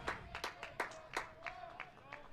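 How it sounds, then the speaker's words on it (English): Kent State fans clap in a rhythmic, fairly faint pattern at a college baseball game against the Miami RedHawks, heard from a distance with a steady tone running underneath. "Kent State fans starting to clap"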